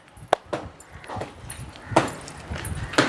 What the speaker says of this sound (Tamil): இதுதான் பார்த்தீங்கன்னா இந்த நாய்க்குட்டி